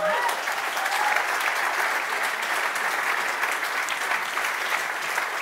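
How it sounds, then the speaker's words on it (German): Dense, steady audience applause fills a German comedy roast of candidates for the 2021 Bundestag election, a continuous wash of many hands clapping at even loudness for the full length, with no talk over it. "einen großen Applaus"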